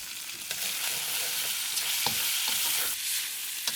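Black pepper beef stir fry with ginger and red pepper hisses in a hot pan, a bright continuous sizzle broken by a few sharp scrapes and stirring clatters.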